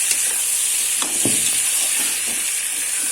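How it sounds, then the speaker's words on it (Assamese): Pork being stir-fried in hot oil in a home kitchen, with a steady loud sizzle and a few soft scraping stirs, and no voices. "এনেকৈ প্ৰায় 5-10 মিনিট মই মাংসখিনি লৰাই ভাজি থাকিম"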